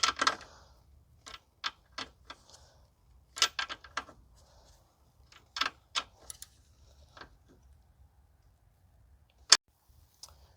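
Sharp metallic clicks of a wrench tightening the battery ground terminal on a 2011 Dodge Journey 2.4, the battery mounted inside the driver's side inner fender; irregular close ticks in short bursts, no talking.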